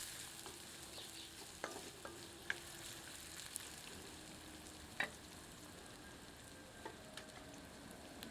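Onions fry gently over medium heat for moong dal khichdi, a soft, quiet sizzle running throughout with a few faint clicks of a stirring spoon, no one speaking.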